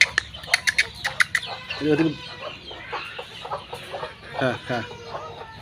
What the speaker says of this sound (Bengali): দেখুন কীভাবে খাচ্ছে মুরগিগুলা